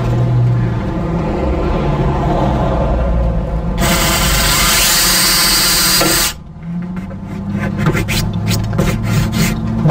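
A harsh, whirring power drill grinds loudly for a couple of seconds, drilling holes to install a backup sensor, amid ongoing mechanical noise, followed by a series of quick clicks and taps.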